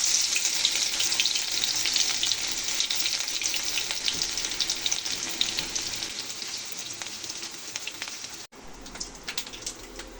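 Crushed ginger, onion and garlic tempering in hot oil, a dense, continuous sizzling crackle with scattered pops running for ten seconds, briefly dipping near the end before resuming, with no talking.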